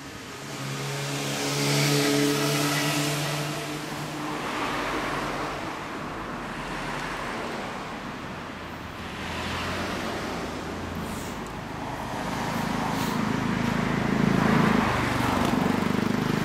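A red-and-black 2012 Honda CB400 Super Four Hyper VTEC Revo (NC42) motorcycle engine running, a mid-pitched idle that swells with several revs and eases back, fairly close and continuous, with no talk over it.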